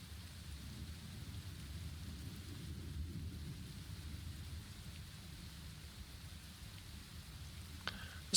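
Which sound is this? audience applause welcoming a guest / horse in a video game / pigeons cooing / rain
rain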